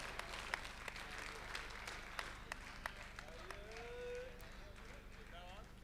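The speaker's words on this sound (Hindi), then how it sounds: "मैं चाहता हूँ कि ज़ोरदार तालियों में उनका इस्तकबाल करें।" Audience applause welcoming poet Charan Singh Bashar at a Republic Day kavi sammelan and mushaira in Dubai, scattered claps over a hall murmur, with a voice speaking over it toward the end.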